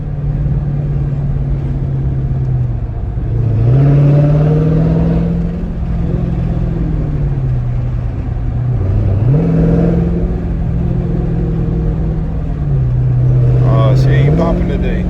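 Car engine idling and revving loudly on a cold day with the car in eco mode, a steady low drone rising in three slow rev swells, with someone talking over it.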